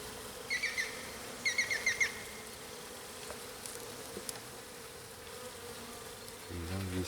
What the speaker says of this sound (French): c'est des abeilles hybrides